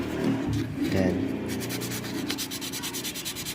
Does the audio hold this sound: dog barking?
no